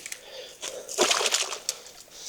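A short splash of water, with a few lighter drips and sloshes around it, close by and fairly quiet.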